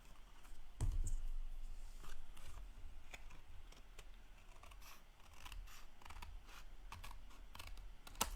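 Scissors cut circles from card stock in a craft setting, with close, crisp snipping and creaking blade sounds in an irregular run of cuts and handling noises.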